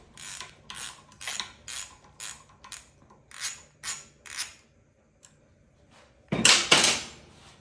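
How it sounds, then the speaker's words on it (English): A series of short metallic scraping, ratcheting tool strokes loosening two bolts from a motorcycle headlight mount, about a dozen rhythmic close-up bursts, a pause, then a louder rasping clatter at the end. "So now we're going to remove these 2 bolts."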